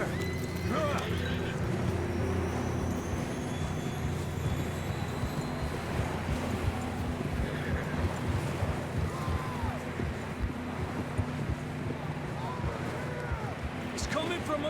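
Horses in the Red Dead Redemption 2 video game trot and gallop with steady clip-clop hoofbeats under rushing ambient noise, with several whinnies and neighs cutting through.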